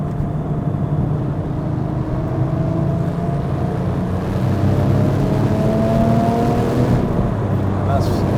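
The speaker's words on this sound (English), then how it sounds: "I'm really trying my best to be gentle on the accelerator. But I'll open it up now." A Porsche 997.1 911 Turbo engine pulls hard in third gear, its steady rising drone climbing in pitch over eight seconds, loud and close from inside the cabin, with constant road and wind roar beneath.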